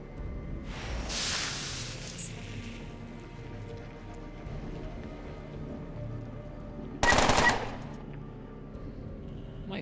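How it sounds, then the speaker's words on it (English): Gunfire in the video game Underrail, two separate bursts of sharp noisy shots several seconds apart, moderately loud over a low steady background. "Nice shooting, Broderick."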